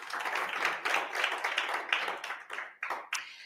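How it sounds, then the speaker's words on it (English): Applause from a modest conference audience at a side event, brisk overlapping hand claps that hold steady for a few seconds and then thin into a few scattered, separate claps before stopping. "So let's give them a round of applause"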